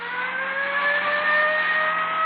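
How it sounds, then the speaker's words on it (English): A dark Chrysler sedan goes by, its engine a steady, fairly loud droning whine that holds briefly with no talk over it. "The car that just passed us."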